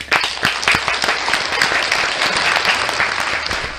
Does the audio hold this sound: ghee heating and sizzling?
no